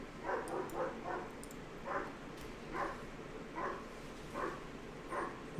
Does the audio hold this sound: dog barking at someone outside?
yes